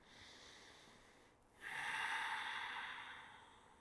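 One slow, deep breath during a lying yoga twist: a quiet inhale, then a long, close, airy exhale that fades out.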